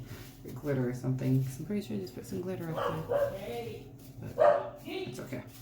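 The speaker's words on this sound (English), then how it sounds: "Sorry about the dog." A dog barks in bursts in the background while someone talks throughout, blending makeup with a stiff brush.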